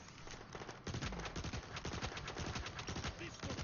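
Rapid automatic gunfire from a gun in the video game Transformers: War for Cybertron, loud dense bursts of repeated shots running almost the whole time.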